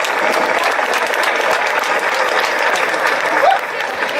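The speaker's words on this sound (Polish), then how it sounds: "I mamy, kochani, pierwsze miejsce. Gorące brawa." Loud, sustained applause from an audience at a sports award ceremony for a special-needs school games, steady clapping throughout with crowd noise.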